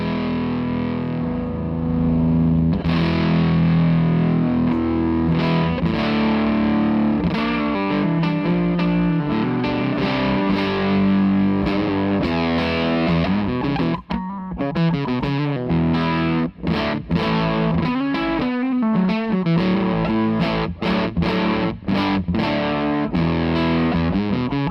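Electric guitar played through an Argenziano Effetti Voodoo '67 overdrive pedal with all controls at 12 o'clock, a thick tone, chords and riffs ringing out loud and continuous with some sharper picked accents near the end.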